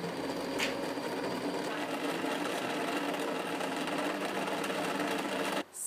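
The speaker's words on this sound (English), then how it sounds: "We learned how to sew on machines." A sewing machine stitches fabric in a theater tech class, a close, continuous rapid whirring hum that runs steadily before cutting off abruptly.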